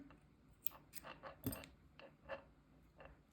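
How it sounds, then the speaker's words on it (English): Scissors snip through a beaded support-bracelet cord several times in a quiet room, producing short, crisp, faint clicks. "now we can cut this here"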